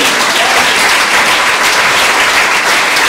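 A church congregation bursts into loud, dense applause, a steady wash of many hands clapping that fills the room.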